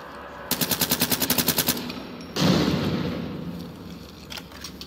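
A rapid machine-gun burst of about a dozen evenly spaced shots rings out in Ghost Recon Future Soldier multiplayer, followed by a heavy blast that rumbles and fades.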